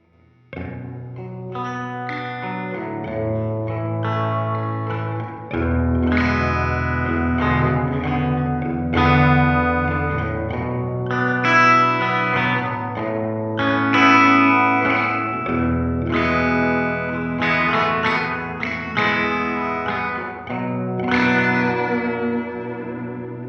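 Electric guitar plays through a Fender Tone Master Pro reverb, picked chords and melodic lines sounding bright and sustained with a spacious echoing tail, no voices present.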